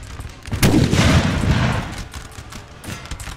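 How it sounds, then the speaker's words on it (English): Musket volleys and cannon fire in the video game Napoleon Total War sound as a sudden loud blast followed by rumbling gunfire that fades, with a few softer pops afterward. "The French fire is really accurate,"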